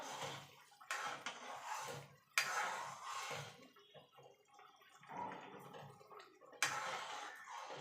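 Egg white is stirred into chicken soup in a pot, giving quiet liquid swirling and sloshing in several separate bursts with soft splashy accents and no talk.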